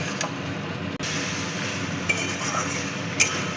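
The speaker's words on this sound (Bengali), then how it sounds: "কাসুরি মেথি ভালো করে মিশিয়ে নেব" A spoon stirs kasuri methi into a vegetarian soybean and potato curry in a pan, a steady close scraping and sizzling texture with a couple of brief metallic clinks.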